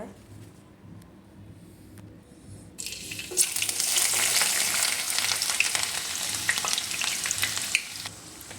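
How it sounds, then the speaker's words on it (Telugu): Onions drop into hot cooking oil after a near-silent stretch, bursting into a loud, steady, close crackling sizzle that holds to the end. "ఆయిల్ వేడి ఎక్కిన తర్వాత దాని తర్వాత ఉల్లిపాయలు వేసుకున్న"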